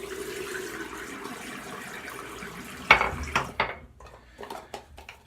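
Water running from a tap over a shaving brush at a sink, a steady wash of flow that gives way to a few sharp splashes and clinks near the end.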